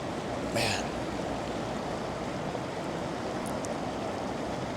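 Water flows steadily as a broad, even rushing wash close by, unchanging from start to end, with one faint brief sound near the beginning and no talking.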